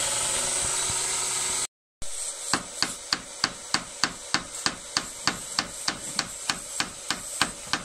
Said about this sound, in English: now Filippo's peening the end over. So with a ball peen hammer, the round end